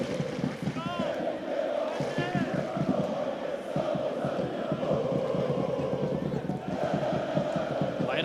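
Sarajevo supporters in the stadium stands during a football match against Velež, chanting in loud, rhythmic unison with steady clapping beats, a dense crowd song that keeps going without pause.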